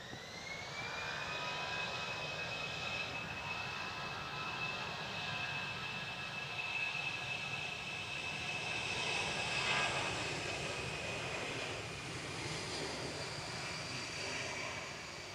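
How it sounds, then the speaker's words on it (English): An airliner at Manchester Airport on its take-off roll gives a steady, distant jet-engine roar with a rising whine, holding on in stormy conditions. "next departure is on the roll"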